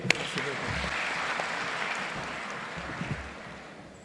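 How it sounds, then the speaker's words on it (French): An audience at a graduation ceremony in Mauritania applauds in a soft, steady patter of many hands, heard from a distance and fairly faint, tapering off over a few seconds. "Khalid Diallo, sous vos applaudissements s'il vous plaît."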